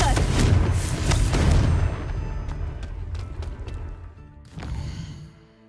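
Confringo blasting spell in Hogwarts Legacy: a loud, dense explosive boom that rumbles and fades over a couple of seconds, then a second smaller burst follows before the sound tails off.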